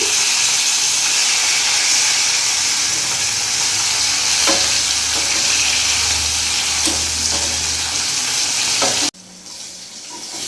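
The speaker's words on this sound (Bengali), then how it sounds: "মাছগুলো আমার এক পিঠ ভাজা হয়ে গেছে। আমি এবার উল্টিয়ে দিচ্ছি।" Katla fish pieces, flipped partway through, sizzle loudly in hot mustard oil in a pan, a dense continuous crackle with a few soft stirring knocks and no voices.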